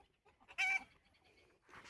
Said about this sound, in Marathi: हे बघा कोंबड्याच्या मागे लागतोय